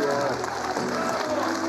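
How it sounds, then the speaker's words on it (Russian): Applause at the funeral farewell for actor Ilya Oleinikov in St Petersburg: a steady, dense wash of clapping from a crowd, fairly loud and continuous throughout, with no voices standing out. "Ушедшим из жизни артистам принято аплодировать, но сегодня эти аплодисменты были особенными"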